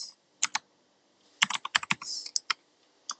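Arrow keys tapped on a computer keyboard while steering in a TurboWarp dodgeball game, a few quick clicks then a dense cluster of presses, close and crisp with brief pauses between.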